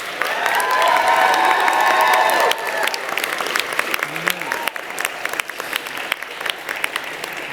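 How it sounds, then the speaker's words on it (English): Graduates at a commencement ceremony give a long round of applause, loud and dense at first with cheers and whoops from the crowd, then thinning into scattered clapping and voices. "I invite the graduates to applaud the wonderful faculty and staff of AUP for all the assistance they have"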